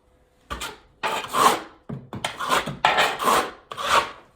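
A half-inch notched trowel spreads thinset mortar on a shower wall for large format tile, making several close rasping strokes in short bursts, each scrape lasting about half a second, with no talking.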